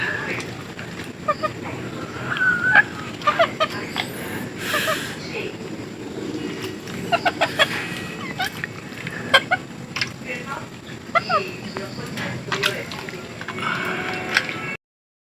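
Chickens cluck and squawk in short bursts against a steady outdoor background, with a person speaking throughout.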